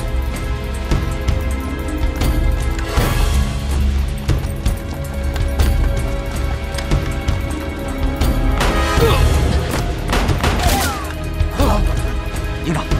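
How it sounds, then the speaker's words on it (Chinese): Gunfire in an anti-Japanese war film: several sharp shots and crashing bursts cut through a dense, continuous background of battle noise and score. "枪声是从街道传来的"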